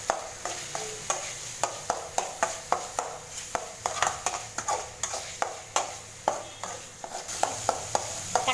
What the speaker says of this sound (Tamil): தக்காளி பாருங்கள் நல்லா சுண்டி வதங்கியிருக்கு.